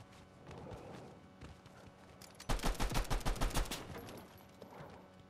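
Gunfire in the Fortnite video game erupts in a rapid, loud volley of about a dozen shots in the middle, with fainter in-game ambience and scattered sounds before and after.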